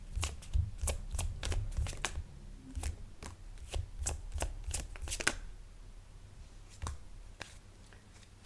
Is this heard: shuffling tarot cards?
yes